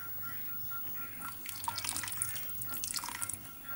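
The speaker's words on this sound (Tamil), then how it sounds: "இந்த பாயசத்துக்கு மேலும் சுவை ஊட்டுற மாதிரி இது கூட கொஞ்சம் பசும்பாலும் நம்ம சேர்த்துக்குவோம்." Cow's milk poured into sweet payasam, a soft trickling, dripping liquid sound that grows busier toward the end, close and fairly quiet with no talk.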